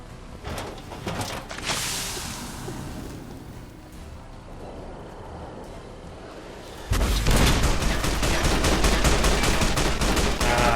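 Gunfire rings out in Fallout: New Vegas during the fight with Legate Lanius. After a quieter, rumbling stretch, loud rapid shots break out in a dense, continuous volley that lasts to the end.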